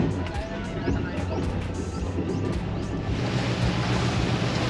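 A 2023 Yamaha 255XD jet boat running on open water, with waves slapping and splashing against the hull in repeated sharp bursts over a continuous rushing wash of water and wind, fairly close.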